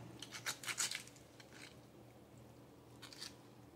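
Scissors snipping through food in a home kitchen during late-night dinner prep, a quick cluster of crisp cuts near the start and a couple more later, close and fairly quiet.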